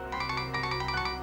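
A short electronic ringtone melody plays, a quick run of repeating tones, fairly faint.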